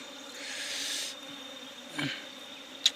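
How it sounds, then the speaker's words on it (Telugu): Bees buzzing around a wild honeycomb in a forest while honey is harvested, a faint, steady drone swelling for about a second, then a brief louder pass of a single insect nearby and a sharp tick near the end. "ఈగలు వచ్చి ఇక్కడ వచ్చి తినేస్తున్నాయి"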